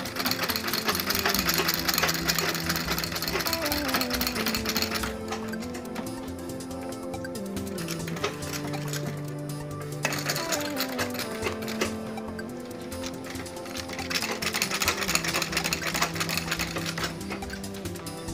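A sewing machine stitches a seam on a men's leather bag with a fast, rhythmic mechanical clatter, its motor pitch rising and falling as the stitching runs in bursts, close and moderately loud, with no voices.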